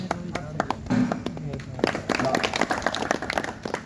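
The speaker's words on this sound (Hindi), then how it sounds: "ऐसे तालियों से स्वागत करो बाबा" Hands clap in welcome for Baba at a religious gathering, a fairly close burst of sharp, uneven claps from a few people that keeps going the whole way.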